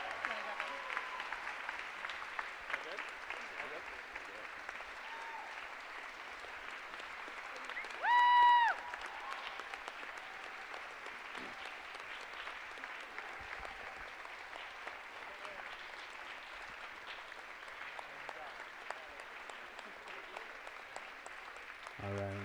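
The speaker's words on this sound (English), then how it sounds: "appreciate the clapping" Sustained applause from a conference audience at a TEDx event in Toronto as the volunteer organizing team comes on stage, steady clapping filling the hall for about twenty seconds with a brief tonal cue partway through.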